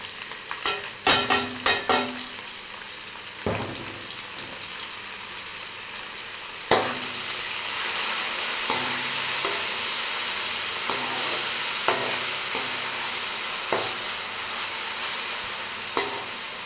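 Onion, tomato and green chili hiss and sizzle steadily in a pan, with a few loud clatters of ingredients going in early, then occasional scraping stirs over the continuous frying.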